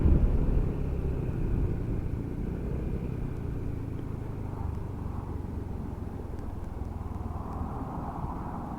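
A taxi passing on a road, a steady low engine and tyre rumble that swells and slowly fades, fairly distant, with no talk.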